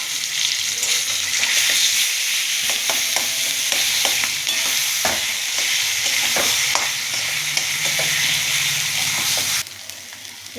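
Coconut paste ground with red and white mustard and green chilli stirred into pointed gourd frying in a pan, a loud continuous sizzle with repeated scraping stirs, quieting abruptly near the end.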